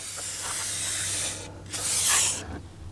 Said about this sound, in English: I just spray it on.